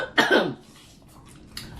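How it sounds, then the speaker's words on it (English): One sharp, close cough from a person, a brief harsh burst followed by quiet room tone and a faint trailing noise. "You see, I'm coughing."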